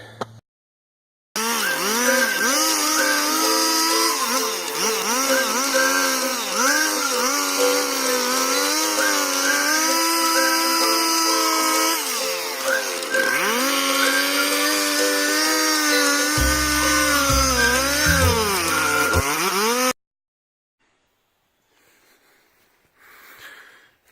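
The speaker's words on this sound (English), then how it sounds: "I'll end up chopping it with the chainsaw" A chainsaw runs loudly and continuously for about twenty seconds while cutting through a wooden door, its engine pitch rising and dipping as it bites into the wood, then cuts off to near silence.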